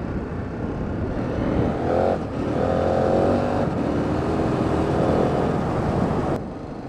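A 2017 KTM 1290 Super Adventure R motorcycle ridden in off-road mode in Peru, with a continuous droning engine and road rumble that surges slightly as the throttle changes, steady and fairly close.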